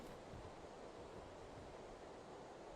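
Ocean waves wash and hiss in Tales of Berseria, a steady, broad surf rushing close and continuous like wind over water, with no voices.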